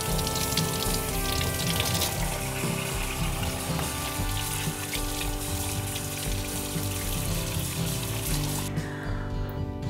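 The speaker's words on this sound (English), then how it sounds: "we need to rinse these off and then pat them dry" Running water pours steadily over salt-cured meat being rinsed, a continuous close splashing wash with no speech, cutting off abruptly near the end.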